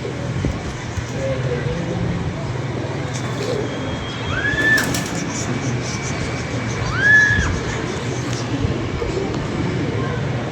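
Pigeons coo softly a couple of times over a continuous background of outdoor noise and distant traffic.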